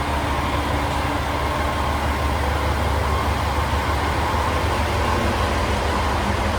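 The Ametsuchi sightseeing train, leaving Tottori for Izumo, gives a steady, dense engine rumble heard from inside. The hum and noise stay even and unbroken throughout, with no voices.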